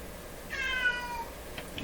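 A pet cat named Peanut gives one long, wavering meow, asking to be let outside; it is fairly faint and stands alone against a quiet, hissy background.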